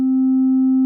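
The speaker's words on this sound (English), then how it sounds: "creating sine waves. They're tuned to 5th apart. So here's the left one." A steady, pure sine tone from the left side of a self-oscillating Mutable Instruments Blades filter, holding one constant pitch loud and alone for under a second.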